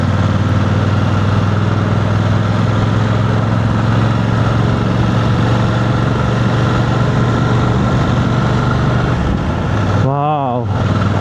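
A BMW 900 GSA motorcycle climbs uphill on a curvy road, its engine droning loud and steady under strong wind rush, with a brief pitch sweep near the end as it shifts.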